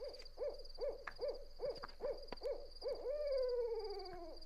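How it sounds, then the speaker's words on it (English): A barred owl calls in a rhythmic series of hoots that ends in a long descending drawn-out note, faint and distant over a steady background hum. "We're hearing a barred owl."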